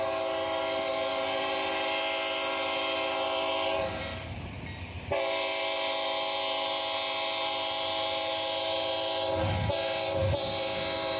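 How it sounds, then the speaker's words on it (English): A GE C40-8W diesel freight train led by a Genesee and Wyoming heritage unit passes close by, with a loud sustained multi-tone horn over the heavy rumble of engines and wagons. "To our surprise, the Genesee and Wyoming Heritage Unit was leading the train."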